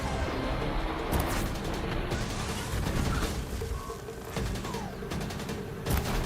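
Ravager turret gunfire in Horizon Zero Dawn sounds as a dense, loud barrage of rapid bursts and crashing impacts, repeated sharp blasts over a constant roar of game effects.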